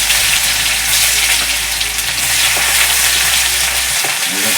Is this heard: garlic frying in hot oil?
yes